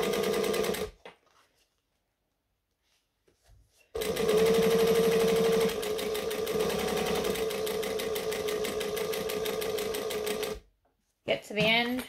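Close, loud sewing machine stitching at a 3-stitch length, a steady rattling needle run of several seconds after a near-silent pause, with voices before and after.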